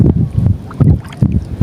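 Strong outdoor wind buffets the microphone in low, thumping gusts that come in uneven bursts, loud and close throughout.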